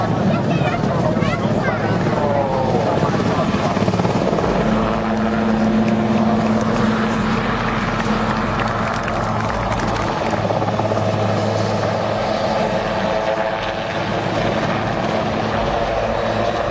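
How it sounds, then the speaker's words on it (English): A helicopter hovers low over open water, its loud, constant rotor and engine roar filling the scene with a near, steady drone and some voices underneath. "Landing a helicopter on open water takes far more than steady hands."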